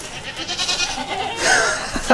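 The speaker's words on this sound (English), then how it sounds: "Baby goats." Baby goats bleating in a farm pen, with a soft nearby wavering cry rising toward the end amid low background rustle and a brief sharp bleat at the close.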